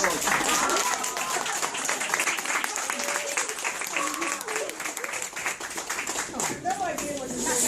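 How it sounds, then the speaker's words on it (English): Guests at a 2014 book launch clap and applaud, a busy spatter of many hands under nearby voices talking over it for the whole stretch. "Let's give her a round of applause for a big heart."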